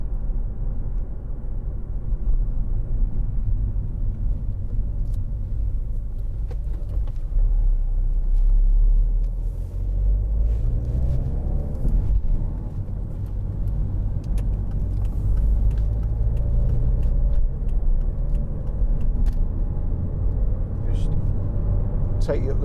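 A 2011 Volvo V50 1.6 D2 diesel estate cruises along the motorway, its steady low engine and road rumble filling the cabin with broadband tyre roar, while a person talks over it throughout.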